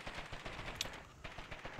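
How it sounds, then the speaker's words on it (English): Rapid bursts of video game gunfire crackle at a distance, fairly faint and continuous, like automatic weapons firing somewhere off. "because I heard gunshots"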